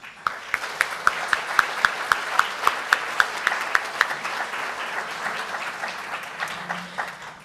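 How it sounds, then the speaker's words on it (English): A room of Rotary club members applauds visiting guests and their hosts, with dense, steady clapping and a few sharp, louder claps standing out in a regular rhythm, fading slightly toward the end. "please stand so we can give you a warm round of applause?"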